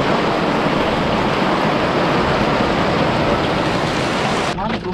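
Steady rain hisses loudly and continuously at a fishing spot by Jatiluhur reservoir, a dense broadband wash that stays even throughout and cuts off sharply near the end.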